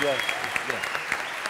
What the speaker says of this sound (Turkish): Bir alkış daha alın ya.